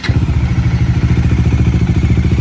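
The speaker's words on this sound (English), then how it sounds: "The single cylinder sound with the M1 Akrapovic muffler." A Bajaj Dominar 400 motorcycle with its single-cylinder engine and an M1 Akrapovic muffler idles close by, giving a loud, steady, throbbing exhaust beat with rapid even pulses.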